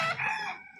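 A rooster crows once, close and fairly loud, a short bright call while fighting cocks are being transported by vehicle.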